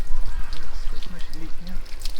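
Water leaks and dribbles out of a hose outdoors, an irregular splashing trickle, with people talking over it.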